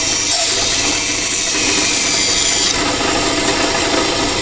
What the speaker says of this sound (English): Instead of the rattling, you're going to hear it binding.